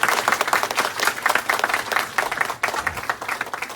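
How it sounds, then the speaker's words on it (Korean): A church congregation applauds at an installation worship service, with dense, steady clapping from many hands that swells and dips briefly near the end, close and fairly loud. "박수로 좀 전해주세요."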